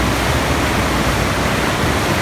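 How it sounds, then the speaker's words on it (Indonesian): River water rushing steadily on the way to the Bidadari waterfall in Aceh, a dense, continuous close-up roar of flowing stream with no talk. "Ini sungai penghubung ke air terjun Bidadari."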